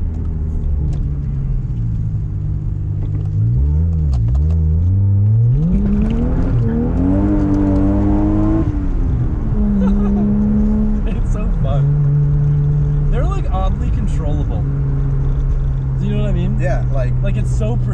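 A car engine revs and accelerates through several rising pitch sweeps with gear changes, heard loud from inside with the windows open, while people talk over it.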